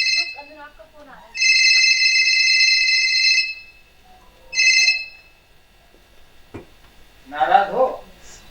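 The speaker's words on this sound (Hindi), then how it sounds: "अनुराग का फोन आ रहा है।" Telephone ringing on stage at a theatre festival: a long electronic ring, then a shorter second burst, loud and clear between lines. Voices are heard before and after the ringing.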